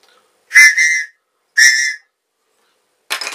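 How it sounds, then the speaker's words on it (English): Two loud, shrill blasts from a signaling whistle, close to the microphone, the first breaking into a double toot, followed by a brief hissy burst of air. "if you get into a situation where you need to signal someone, a whistle"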